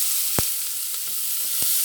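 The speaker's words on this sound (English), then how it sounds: "So I'm going to start with the onion. Please be careful. The hot oil and a little bit of beef fat in here can splatter." Onion frying in hot oil with a little beef fat for a Belgian beef stew, a close steady hiss and sizzle with two brief knocks from stirring.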